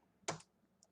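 A single soft keystroke on a computer keyboard, faint and close, followed by a tiny click a moment later in a quiet room.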